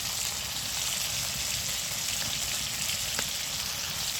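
Tomato and ginger paste sautéing in a pan with salt, giving a steady, even sizzle and crackle close by with no voices.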